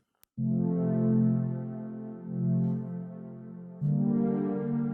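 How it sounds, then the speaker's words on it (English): Plain, dry synth chords sustain one after another, a warm buzzy tone with three chord changes and no reverb or effects, no talking. "with no effects on them, they just sound like this"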